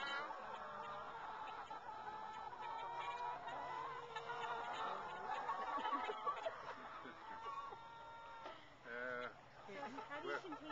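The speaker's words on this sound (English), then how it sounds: "These are the happy chickens at Coyote Creek." Hy-Line hens in a flock clucking and chattering at close range, a dense continuous chorus of overlapping calls with a few louder squawks near the end.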